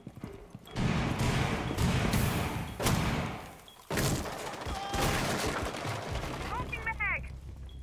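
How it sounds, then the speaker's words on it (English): A cluster charge detonating in Rainbow Six Siege: a rapid string of loud, punchy blasts and thuds that burst out, pause, then resume in dense clusters, trailing into game noise and a few short chirping tones near the end. A voice speaks over part of it. "Cluster charge going up. Detonate the cluster charge."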